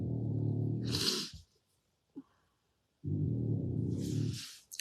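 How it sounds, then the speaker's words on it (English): A dog snores nearby in two long, loud rumbling breaths with a hissing exhale after each, separated by a quiet pause. "Yeah, that's my dog snoring."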